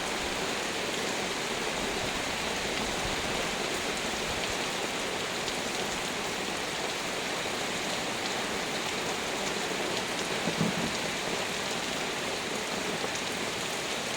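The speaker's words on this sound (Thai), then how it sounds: "ฝนยังตั้งเขาหนักมา แบบนี้ไปอีกนานสักแค่ไหนนะฮะ" Heavy rain pours down in a dense, steady hiss that fills the whole stretch, loud and unbroken, with no voices.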